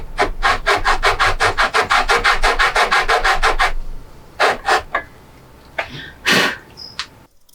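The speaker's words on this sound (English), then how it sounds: "Now I can saw away." A craft saw cuts through wood while a hardwood bench is being built. A fast run of loud, regular rasping strokes is followed by a few separate, slower strokes and pauses, all close by and with no voices.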